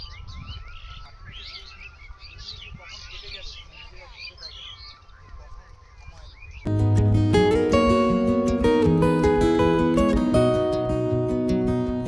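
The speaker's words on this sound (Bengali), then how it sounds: "পাখির আওয়াজ কত প্রচুর পাখি রয়েছে এখানে" Many birds chirp and tweet busily at the Chapra flower garden in Ranaghat, among bottlebrush trees, moderately close and continuous, before loud music abruptly takes over for the second half.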